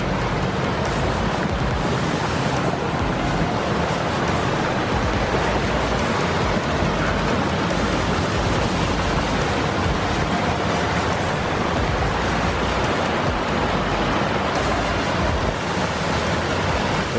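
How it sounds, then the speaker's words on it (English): Pond waterfall pouring over a big flat stone into a fast-moving stream, a dense, steady rushing roar of water that stays loud and unbroken throughout with no voices. "This is the section, the little fast-moving stream where the waterfall discharges."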